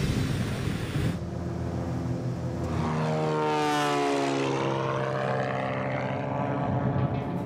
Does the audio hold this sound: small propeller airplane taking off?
yes